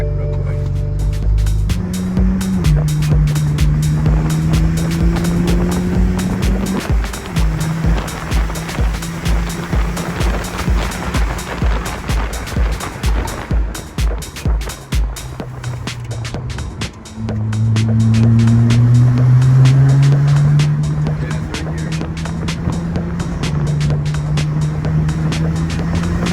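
A camera car drives a lap of a 4x4 trail in the Appalachian mountains, its engine droning loud and close, climbing and dropping in pitch with the throttle, while rapid clattering bumps run underneath the whole time.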